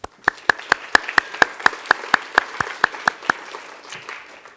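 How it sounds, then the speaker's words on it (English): Steady clapping at an awards ceremony honouring nominees, about fourteen sharp evenly spaced claps from a nearby source, fairly loud over a faint crowd wash, fading out toward the end. "Please join me tonight in applauding everyone nominated here this evening."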